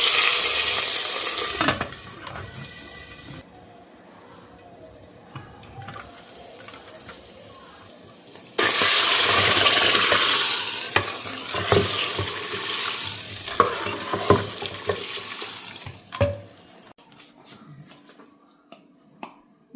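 Garlic and asafoetida tempering (tadka) for winter saag spits and sizzles loudly in hot oil, close up, with a quiet stretch between two bursts of crackling and stirring clatter that fade near the end.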